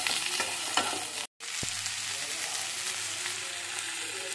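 Onion, crushed garlic and green chilli sizzle steadily in hot oil while being stirred, a continuous close hiss with scraping stir strokes and one brief cut in the sound.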